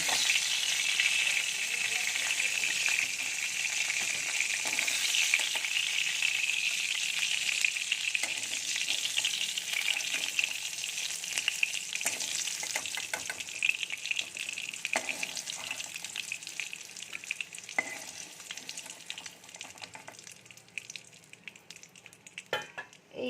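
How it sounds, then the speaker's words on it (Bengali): Pointed gourd frying in hot oil makes a continuous bright sizzle throughout, with occasional knocks and stirring sounds as pieces are lifted out. "এই যে পটলগুলো ভাজা হয়ে গেছে পটলগুলো এবার আমি একে একে তুলে নেব"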